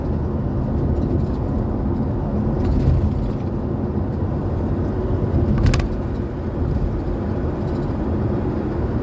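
Riding a motorbike on the road, a steady, loud low rumble of engine and wind noise heard from the rider's position, continuous with slight swells throughout.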